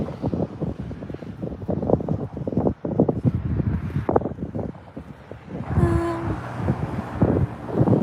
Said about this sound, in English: it's windy. There's a really nice cool breeze coming over